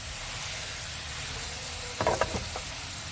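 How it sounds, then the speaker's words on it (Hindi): Onions fry in a pan toward golden brown for a samosa filling, making a soft, low sizzle with a short burst of crackling and stirring about two-thirds through. "प्याज जो है वो गोल्डन ब्राउन हो रहा है"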